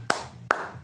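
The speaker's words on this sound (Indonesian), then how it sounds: "Tepuk tangan dulu semua guys." Three sharp hand claps ring out about half a second apart, crisp and close, with nothing else around them.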